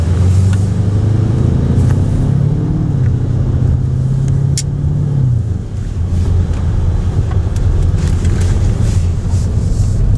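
A Lamborghini Urus in dirt mode rolls along a desert dirt road, its engine a steady low drone mixed with rumbling tire and wind noise, continuous and close without talk.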